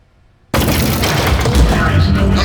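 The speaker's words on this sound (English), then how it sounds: "Oh jeez, it's got a gun!" Loud sustained turret gunfire in the video game Aperture Desk Job, erupting suddenly after near silence into a dense continuous burst of shots that fills the rest of the moment.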